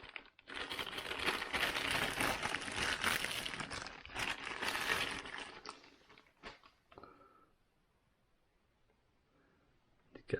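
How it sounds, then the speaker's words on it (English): Plastic bag crinkling around a newly unboxed Sig Sauer BDX scope, close crackly rustling that is busy for about five seconds, then thins to a few scattered handling noises before a last small rustle. "wrapped up in a plastic bag."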